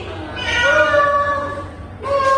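A single long, rising-then-falling meow voiced by a child mimicking a cat in a classroom, close and clear, followed by the start of another short mew.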